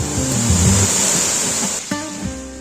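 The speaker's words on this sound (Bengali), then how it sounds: "আর এটাই হলো অপরূপ ছাগলকান্দা ঝর্ণা, যা ঝিঝি পানির প্রবাহমান শব্দ মন জুড়িয়ে যায়।" Water pours at Chhagolkanda waterfall as a loud, continuous broadband rush that fills the scene, with low tonal notes, likely music, layered over it.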